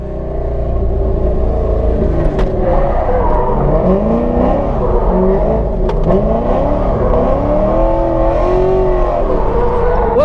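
A C5 Corvette drift car driven hard through a corner, its engine roaring loud and close in continuous rising and falling revs with a faint tyre squeal, no voices.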